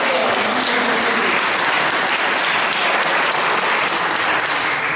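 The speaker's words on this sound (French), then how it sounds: "Et oui, vous pouvez l'applaudir" An audience applauds an artist at a twin-town gathering in Auxerre: continuous, dense clapping from many people, steady and loud throughout, with no break or voices standing out.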